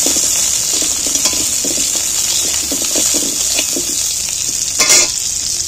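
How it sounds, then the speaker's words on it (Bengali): Ripe and half-ripe garden tomato frying and being stirred in hot oil, a loud steady sizzle with scraping stir strokes and a brief louder splash of hissing near the end, no voices. "আর এখানে একটা টমেটো দিচ্ছি, কাঁচা পাকা আধ পাকা গাছের টমেটো ছিল, ওইটাই দিচ্ছি। একটু নাড়াচাড়া করে ভেজে নিই।"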